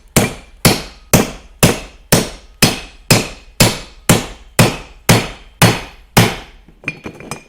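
Repeated heavy hammer blows drive a steel punch against the front hub of a 1948 Farmall Cub tractor, twelve sharp evenly spaced metallic smacks with ringing decay, loud and close, then a few lighter taps.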